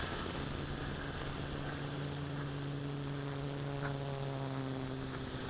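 MJX X101 quadcopter drone with its propellers spinning in flight as the throttle rises, a steady airborne buzzing whine that holds level with constant tonal hum, fairly faint and continuous with no talking.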